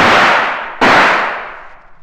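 Two gunshots fired at a hound in an audiobook of The Hound of the Baskervilles ring out, loud and close, each a sharp crack trailing into a long echoing decay, the second following under a second after the first.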